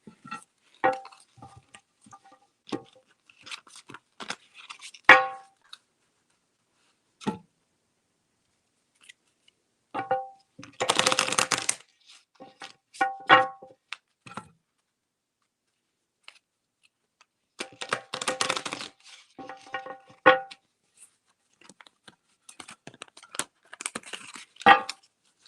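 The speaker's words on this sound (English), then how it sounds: "Let me shuffle these cards really quick." Tarot cards being shuffled by hand, crisp irregular riffling and slapping in scattered bursts separated by near-silent pauses, with two longer, denser shuffling runs.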